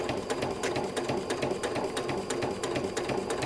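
Sewing machine running a straight stitch close to the edge of fabric applique, a fast even needle chatter with regular rapid ticks, steady and close, with no talking.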